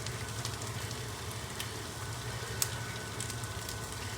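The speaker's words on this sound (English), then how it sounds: "I'm just toasting it right now a little bit on both sides." A tortilla toasting in a pan for fajitas gives off a soft, even sizzle with faint scattered crackles, low and steady with no talk.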